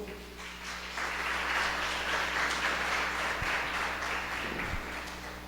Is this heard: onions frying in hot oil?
no